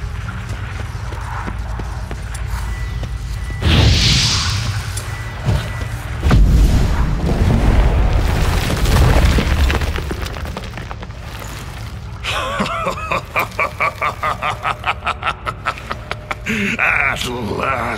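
Stalagmites are smashed in The Witcher 3 with heavy booms and thuds mid-fight. A rapid rhythmic pounding follows toward the end, with voices heard over parts of it.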